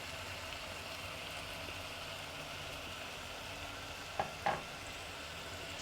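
Tomatoes and San Marzano tomato paste sizzle quietly in a pan, a soft, even frying hiss with two brief clinks of a utensil near the end.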